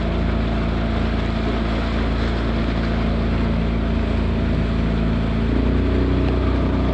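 Motorboat engine on a jungle tour near Cancun, a steady loud drone with wind buffeting the microphone, the engine note rising slightly near the end as it speeds up.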